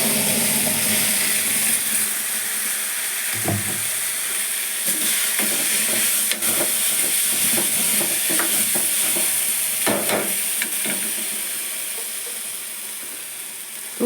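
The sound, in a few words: onions frying with chili powder being stirred in a pan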